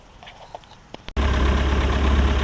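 A Mercruiser 3.0 boat engine on a Stingray, sitting unused for nine years and fitted with a new fuel pump and carburetor, bursts into a loud, steady roar with the throttle opened after a brief quiet lead-in.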